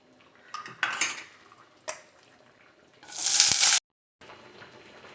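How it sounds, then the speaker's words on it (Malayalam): Paneer frying in ghee in a pan, with close clattering of the pan and utensils and a loud hissing sizzle that bursts up and then cuts off abruptly. "നെയ്യ് ഒഴിച്ചിട്ട് പനീർ നമുക്കൊന്ന് വറുത്തെടുക്കണം"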